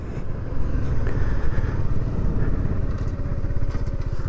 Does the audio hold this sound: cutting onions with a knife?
no